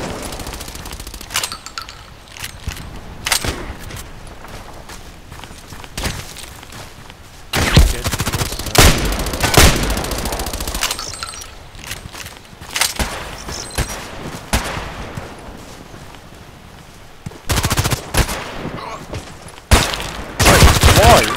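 KAC PDW rifle gunfire in the video game Contract Wars comes in loud repeated bursts of rapid automatic shots separated by quieter gaps, with other game sounds in between.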